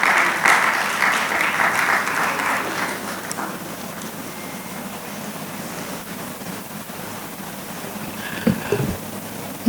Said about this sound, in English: Please, a round of applause for him as he walks to the stage.